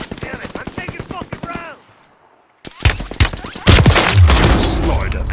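Call of Duty gunfire hitting the player: rapid clattering shots at first, a brief near-silent gap, then a loud burst of dense impacts and explosive booms filling the rest, with no talk over it.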